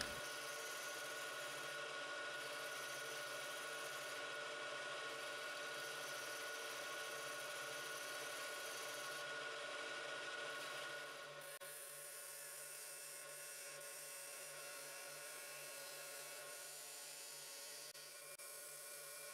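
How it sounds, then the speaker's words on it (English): A wood gouge cuts curly maple spinning on a lathe near the chuck jaws, a steady loud whirring scrape that drops to a quieter hum partway through as the cut eases off. "I will get pretty close to the chuck jaws, and I need the most stable position possible for the gouge to work in a very precise way"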